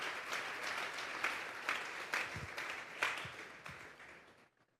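A church congregation at a Sunday afternoon service applauds, a dense, sustained clapping from a large room that fades away at the end.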